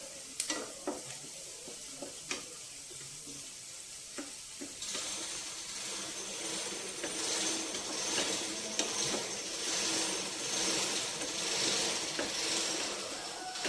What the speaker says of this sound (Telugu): వేగిపోయింది ఉల్లిపాయ.